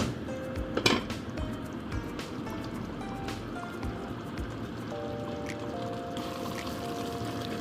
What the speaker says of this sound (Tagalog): at konting tubig.